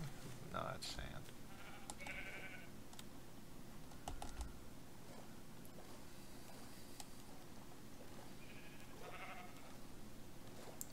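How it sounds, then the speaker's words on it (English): Sheep bleat now and then in Minecraft, short nasal cries over steady keyboard typing and a low game hum, with a player's voice talking throughout. "There's where the sheep noises are coming from."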